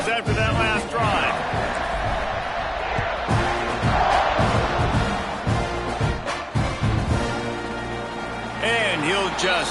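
Football stadium crowd at a college game, roaring and cheering after a scoring drive, loud and sustained with surges and scattered shouts, while a commentator talks over it.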